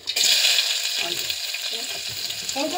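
Cumin and mustard seeds sizzle and crackle in hot oil, a loud steady frying hiss with small pops running throughout, close by and with no talking.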